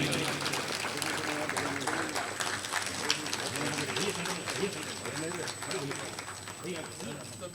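A crowd applauds to welcome Amitabh Bachchan, a loud, continuous wash of clapping with voices and chatter mixed in over it.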